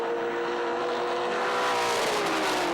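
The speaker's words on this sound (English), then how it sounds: "here comes United Video car down the inside" NZV8 race cars at Taupo Motorsport Park scream past in a 2008 race, a loud, continuous engine roar with a rising and falling tone as a car passes close by.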